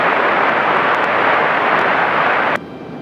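A Frontier airliner takes off from runway 23 right at Raleigh-Durham International, heard as a loud, steady broadband jet roar that cuts off abruptly near the end.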